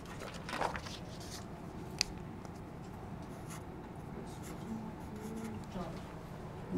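Pen or pencil writing words on paper in an adult classroom, a steady soft scratching that runs throughout over room noise, with one brief tap partway through.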